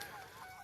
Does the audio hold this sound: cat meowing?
no